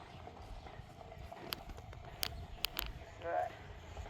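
A horse lopes in a riding arena with soft, rhythmic hoofbeats at a moderate distance, faint under steady background noise, with a few sharp clicks and an instructor's voice speaking briefly.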